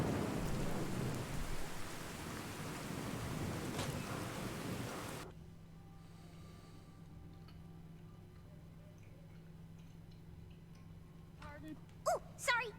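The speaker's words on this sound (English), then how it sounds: "You'll notice, by the way, some rather intense storms going on here. I have the True Storms mod in there" A storm of heavy rain falls in Fallout 4 with the True Storms mod, starting as a loud, dense roar that suddenly cuts to quieter patter with faint ticking, then ends in sharp rumbling thunder cracks.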